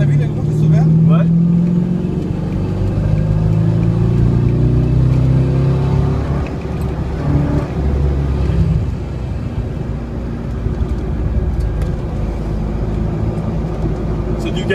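A Corvette C5 accelerates hard on the Bugatti race circuit, its engine note droning low and strong inside the car with rising harmonic sweeps and steady wind and road roar throughout.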